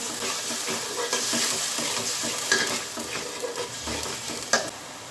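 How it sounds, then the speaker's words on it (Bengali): Onion paste with ginger and garlic frying and being stirred in a pan, a steady close sizzle broken by repeated scraping stirs and occasional utensil clinks, with no talking. "এখন এটাও পেঁয়াজের সঙ্গে 5 মিনিটের মতো ভেজে নেব।"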